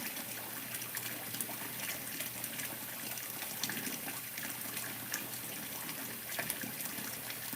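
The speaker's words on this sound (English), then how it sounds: "Sorry about the running water." Water runs steadily from a tap, a constant close rushing splash that stays even for several seconds with no voices over it.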